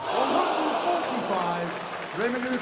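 Darts crowd at the 2017 Players Championship Finals applauding a strong effort from Ian White, a steady patter of clapping and murmur under a commentator talking over it.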